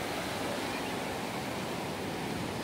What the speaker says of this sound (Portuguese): Hoje o mar aqui tá até calmo